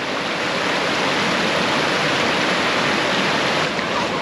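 A river runs loud and close, its rushing water making a steady broadband roar that does not let up, with no voices over it.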